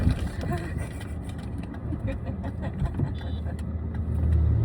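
Car being driven on a road, with a steady mid-level engine drone and road noise throughout that swells louder near the end, while people talk in the car over it.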